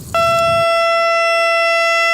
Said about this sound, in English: Paying attention to warning sirens could be a lifesaver this time of year in North Texas.